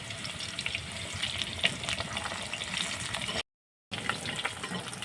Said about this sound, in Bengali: আলুটা ভেজে নেওয়া হয়ে গেছে